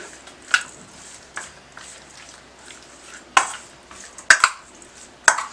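Chicken being mixed by hand with lemon juice, salt and chilli in a bowl, heard as soft stirring with a few sharp clinks of a utensil against the dish, close and fairly quiet.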